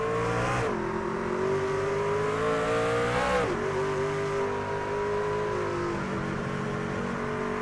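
A race car engine at Sonoma in a racing sim, heard continuously and up close, its pitch rising and dropping through gear changes as the car accelerates and lifts, with no speech.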